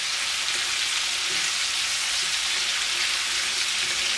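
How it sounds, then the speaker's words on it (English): Spiced shrimp frying in a pan, a steady dense sizzle close up, continuous and even with no voices. "I'm going to let those just cook on one side."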